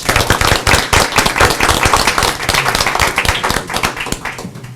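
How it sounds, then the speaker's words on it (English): A room of attendees at a Brawley city council meeting applauds employees and staff, dense, steady clapping filling the space for nearly five seconds before starting to thin out at the end. "if we can give a great round of applause to our employees and our staff"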